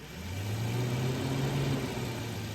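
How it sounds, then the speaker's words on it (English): The radiator fan of a BMW E36 spins up, wired straight to the battery in a garage. Its whooshing whir swells within half a second and then holds at a steady, close drone with a low hum underneath. "fan spins up."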